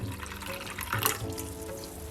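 Water left from soaking sea moss is poured into a cup in a kitchen, a continuous close liquid gurgle and splash with a slight change in tone partway through, with no talking.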